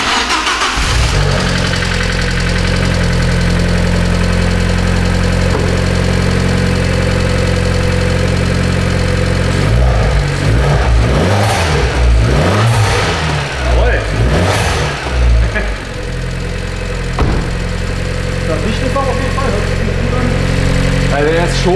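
An Abarth engine with a new downpipe exhaust runs loudly and steadily with a deep exhaust rumble, dipping and revving in the middle before settling back to a strong idle.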